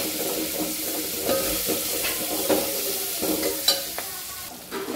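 Tomatoes sizzle in a hot pan of tempering while a spoon stirs them, with soft scraping and a few sharper taps, steady and close.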